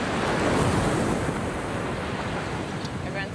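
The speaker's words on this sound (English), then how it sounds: "big waves." Big ocean waves surge and crash continuously in open water at sea, with heavy wind buffeting the microphone and a hint of a vessel.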